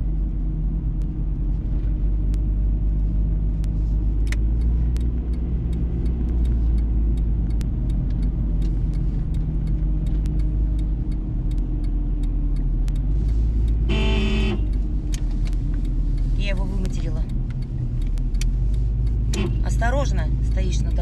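A car travels along a road, swinging into the oncoming lane to get around a slow vehicle, heard as a loud, steady low engine and tire rumble with a few brief sharper noises near the end.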